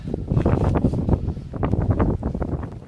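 Strong wind buffeting the microphone outdoors on the Isle of Arran during a wild camping trip, a loud continuous rumbling roar with gusting surges and no voice.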